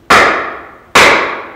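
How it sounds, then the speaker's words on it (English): A hammer strikes a wooden board twice, about a second apart; each loud, sharp crack rings out with a long, echoing decay in a large room. "using a hammer and board for an opposite purpose."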